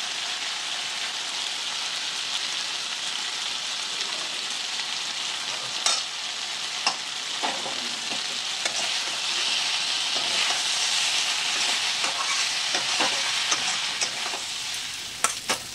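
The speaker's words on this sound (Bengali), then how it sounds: "এবার একটু নেড়ে নেড়ে একটু কষাতে হবে।" Flat bean curry (gota shim chorchori) is stirred and sautéed in a pan, giving a steady bright sizzle and hiss with scattered scraping clicks of the spoon, close and continuous.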